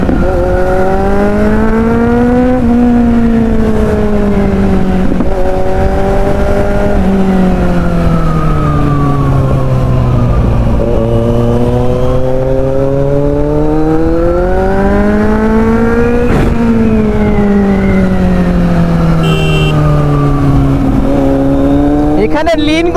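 A Kawasaki Z900 superbike accelerates hard on an open road, its engine note climbing and dipping through repeated surges over a steady roar, loud and close with wind rush throughout.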